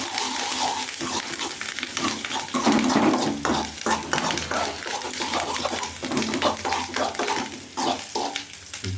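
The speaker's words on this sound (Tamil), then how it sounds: "எல்லாம் சேர்ந்து ஒரு வதக்குறோம்" Spices and vegetables for beetroot rice being sautéed and stirred in a pan, with a steady close sizzle broken by repeated scraping and stirring strokes throughout.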